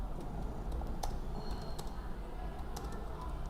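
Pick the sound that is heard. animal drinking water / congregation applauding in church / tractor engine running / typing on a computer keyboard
typing on a computer keyboard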